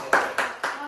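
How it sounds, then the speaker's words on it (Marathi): Children clap during a home celebration, three quick separate claps ringing close and fairly loud within about a second. "टाळ्या वाजवा पोरांनो"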